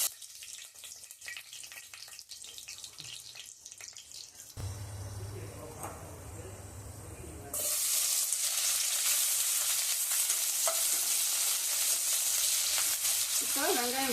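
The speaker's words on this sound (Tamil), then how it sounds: "எண்ணெய் காஞ்சிடுச்சு. இப்போ இந்த பட்டை சோம்பு எல்லாம் போட்டுக்கலாம்." Cinnamon and fennel fry in hot oil inside a pressure cooker for a prawn biryani, starting with quieter kitchen noise and then breaking into a loud, steady, close sizzle that continues to the end.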